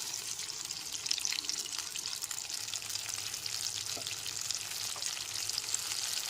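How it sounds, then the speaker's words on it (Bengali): Spice paste frying in a pan with softened chopped tomatoes for a home-style fish curry, a steady, moderately loud hissing sizzle throughout with a faint clink or two, no speech. "এখানে দিয়ে দিলাম পেস্ট করে রাখা মশলাটা"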